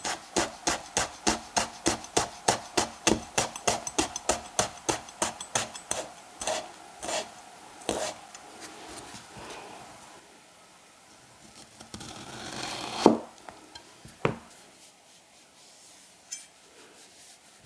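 A knife with a freshly sharpened edge dices a carrot on a board in quick, even chops of crisp, sharp knocks, then slows to scattered cuts and a brief scraping sweep, close and alone.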